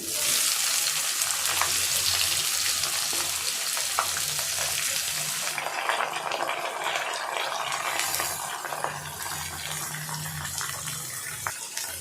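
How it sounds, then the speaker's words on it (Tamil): Chopped onions sauté in about 50 grams of hot oil for chicken kurma, cooking toward golden brown: a steady, close, continuous sizzle with soft stirring scrapes throughout and no voices. "வெங்காயம் நல்லா வதங்கட்டும். நல்லா வதக்குங்க, பொன்னிறமாக ஆகிற அளவுக்கு வதக்கணும்."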